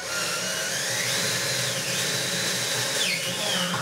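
A power drill boring bolt holes through a pickup truck bed coated with spray-on bed liner, running as one steady, loud, close whine for the whole stretch with no talk.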